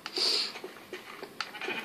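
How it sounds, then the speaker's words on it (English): A Minecraft sheep bleats in the game, a soft, fairly quiet bleat near the start followed by a few fainter short game sounds. "Hey, I've got another sheep."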